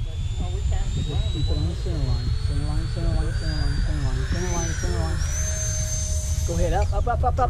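An E-flite Habu RC model jet spools up at full throttle for takeoff, a rising high turbine whine building steadily and loud nearby, while people talk over it.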